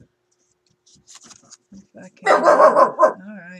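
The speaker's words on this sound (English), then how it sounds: "That's my dog outside." A dog outside gives a short burst of loud, close barks and yips after some quiet speech, ending with a softer whine.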